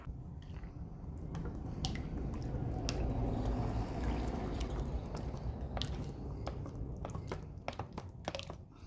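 Liquid detergent is poured into a batch of homemade liquid soap, producing a soft, steady low gurgle with faint squishy splashes and occasional small clicks.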